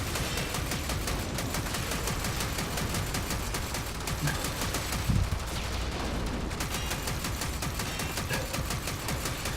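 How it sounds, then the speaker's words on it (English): A heavy gunner enemy in Warframe fires a continuous rapid stream of gunshots, steady and evenly rhythmic across the whole stretch, with a dull thud near the middle. "I'll just let that heavy gunner go trigger happy on from behind me"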